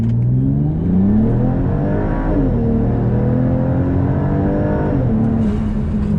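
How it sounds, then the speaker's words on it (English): A Volvo with an upgraded TF80 automatic transmission accelerating hard from a stop, engine note climbing loudly then dropping with quick gear shifts before rising again, heard close from the cabin. "let me just accelerate from a dig again"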